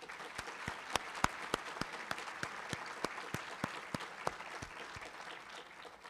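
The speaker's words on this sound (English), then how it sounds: "Give yourself a round of applause." Audience applause at a university town hall, a steady, moderately distant patter of many hands clapping with scattered sharper claps, fairly quiet throughout.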